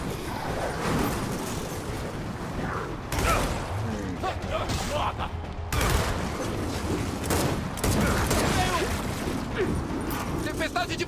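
Bursts of rapid gunfire in the video game Gears of War 4 crackle repeatedly amid rumbling explosions and whooshing windstorm, with voices talking over the action.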